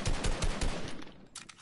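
Rapid video-game gunfire rattles in quick bursts, a loud automatic weapon firing in close succession before trailing off, with a final shot at the end.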